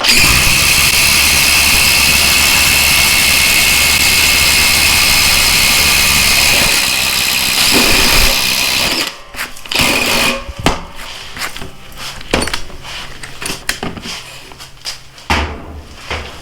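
A DeWalt DCF840 impact driver runs a 4-inch by 1/2-inch lag bolt with a 3/4-inch socket, giving a loud, steady hammering whine for about nine seconds before it cuts off, followed by scattered knocks and handling noises.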